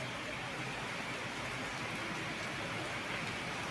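Heavy rain pours steadily during a rainy day at home, a dense, even hiss of falling water close by that holds constant throughout with no voices.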